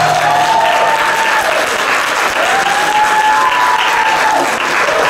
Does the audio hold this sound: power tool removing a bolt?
no